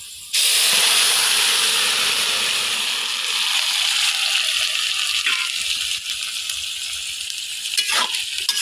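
Malabar spinach dropped into a pan of browned onion and garlic sets off a loud, broad sizzle that holds steady for several seconds with faint stirring clatter near the end.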